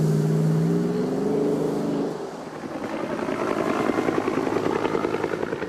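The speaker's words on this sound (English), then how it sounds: "You could call the throaty revving of the V8 sexy." Hummer V8 engine rumbling at idle, then revving up into a rising, throaty roar that holds steady near the listener, with no talking.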